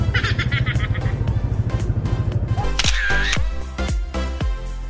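A camera shutter clicks several times in quick succession while taking pictures of motorcyclists, following the steady idle of a motorcycle engine; close and fairly loud.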